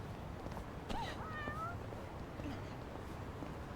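An in-game cat in Yakuza: Like A Dragon lets out a couple of short, rising meows over a quiet background of game ambience.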